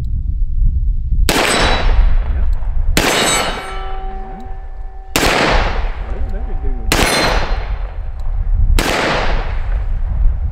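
Colt Python .357 Magnum revolver, the 2020 model, firing five loud, sharp shots spaced a couple of seconds apart at a steel plate. Each report carries a bright ringing clang from the struck steel that lingers into the next shot.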